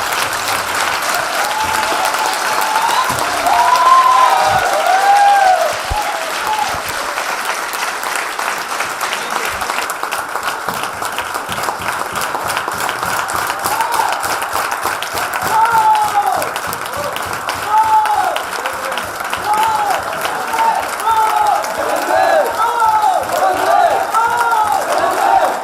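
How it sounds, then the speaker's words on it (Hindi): An indoor audience at a training talk gives sustained, loud applause with scattered cheers, the clapping continuous and dense from start to finish with no speech. "जोरदार तालियां सर के लिए।"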